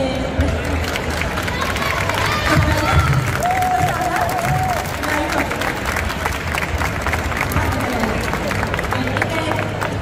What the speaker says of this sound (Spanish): quiero que todo el mundo le dé un aplauso a todos los fantásticos